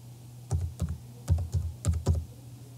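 An email and password are typed on a computer keyboard: a quick, uneven run of about eight close, crisp key clicks in small bursts over a faint steady hum.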